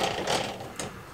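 A metal lathe turns a custom exhaust part for a Supermarine Spitfire, giving a close, steady mechanical whir and rattle with a brief sharper knock near the end.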